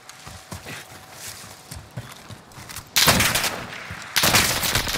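Sniper gunfire in a video game, sounding as a loud sharp blast at three seconds and another near four seconds, each followed by a sustained roar, after a stretch of quieter clatter and scattered thuds.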